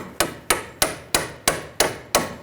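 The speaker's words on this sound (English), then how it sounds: "I'm just going to give it a little tap with a hammer" Seven sharp metallic hammer taps on a bolt in a 2003-2008 Subaru Forester rear suspension knuckle, evenly spaced about a third of a second apart, each ringing briefly before the next strike.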